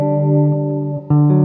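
Electric guitar through a Walrus Audio Mako D1 delay pedal with the tweak set to modulation: a sustained chord with slightly wavering pitch and repeats, then a fresh strike near the end, loud and close.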